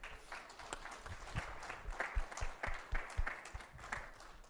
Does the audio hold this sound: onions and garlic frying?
no